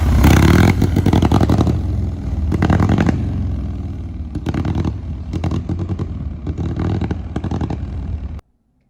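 A 2001 Harley-Davidson Sportster V-twin with a faulty Mikuni carburetor runs rough and loud up close, revving in uneven bursts with sputtering gaps before cutting off abruptly.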